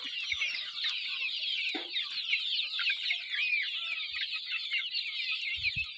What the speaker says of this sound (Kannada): ಈಗ ಎಲ್ಲ ಕೋಳಿಗಳು ತಮ್ಮ ಕೆಲಸದಲ್ಲಿ ನಿರತರಾಗವ್ರೆ